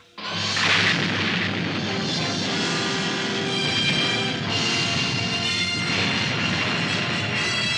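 A missile launch and explosion from the Stingray puppet TV series produce a sudden loud boom followed by a sustained roaring rumble and blast that continues for several seconds.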